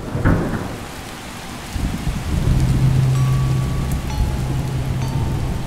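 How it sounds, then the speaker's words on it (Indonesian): Heavy rain pours steadily in a hard, dense hiss while thunder rumbles low, building and rolling on through most of the stretch, with no voices present. "Hujan turun deras, tapi festival masih terus berjalan"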